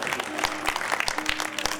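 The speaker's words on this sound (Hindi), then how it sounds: "ताली देंगे जोर से देंगे" An audience claps together at a building inauguration ceremony. The claps come as a short burst of sharp, fairly rhythmic hand strikes, close and moderately loud, with a faint murmur of the crowd underneath.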